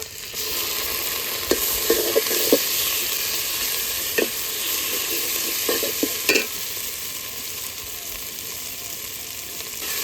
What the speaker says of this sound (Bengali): এখন খুব ভালোভাবে ভেজে নেব।